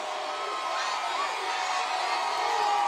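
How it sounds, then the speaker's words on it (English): A large crowd at the Houston Astros championship parade in downtown Houston makes a sustained wash of cheering and chanting voices, fairly loud and continuous throughout, with no single voice standing out. "The crowd is chanting Dusty."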